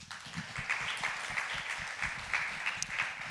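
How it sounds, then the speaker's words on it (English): An audience at a talk on customer experience and social commerce claps for itself, a full, steady round of applause with some individual claps standing out nearby, and no talking over it. "A hearty clap for yourselves."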